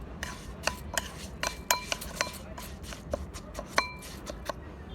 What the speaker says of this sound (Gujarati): મિક્સ કરતાં 1 થી 2 મિનિટ થઈ ગઈ છે અને આપણો મસાલો સરસ તેલમાં શેકાઈ ગયો છે